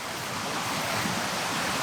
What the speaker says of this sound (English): as I enjoy the sound of the forest and the sound of the waterfall here.